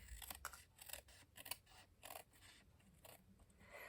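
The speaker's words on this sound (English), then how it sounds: "out with the paper snips, and I'm going to trim all these pieces back" Paper snips trimming pieces of card for a patchwork congratulations card: a quick series of crisp, close cutting snips in an irregular rhythm, with no talk.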